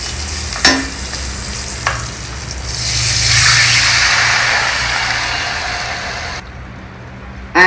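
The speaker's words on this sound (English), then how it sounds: "add this thick tamarind extract to it" Thick tamarind extract for a Varalakshmi Pooja prasadam hits a hot pan and sizzles. A couple of sharp clinks come first, then a broad hissing swell that slowly fades.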